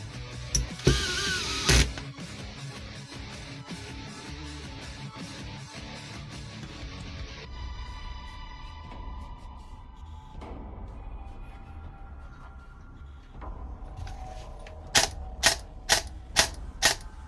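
A KWA Eve airsoft gun fitted with a Warhead ESC cycles in rapid mechanical clatter, first continuous then as several sharp, evenly spaced single shots toward the end, close and loud with no voices.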